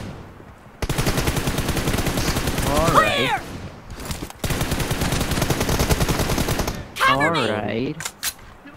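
Rapid automatic M416 fire in a video game rattles close and loud in two long sustained bursts, with whooshing game effects and a brief gap between them.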